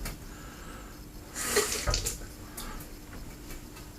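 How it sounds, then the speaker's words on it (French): Tap water runs briefly to wet a TFS Insaponiamo shaving soap, a single short splashing gush of about half a second, fairly close, set against a quiet room with faint background hiss. "je vais mettre un peu d'eau"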